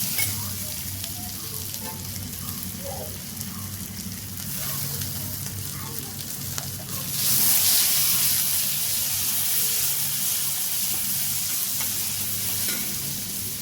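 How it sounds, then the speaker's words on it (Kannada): Onion and tomato fry in a hot pan for aloo saagu, a close, continuous sizzle with scraping stir strokes that grows brighter and hissier partway through, with no talk over it. "ಚೆನ್ನಾಗಿ ಇದನ್ನು ಫ್ರೈ ಮಾಡ್ಕೊಳ್ಳೋಣ."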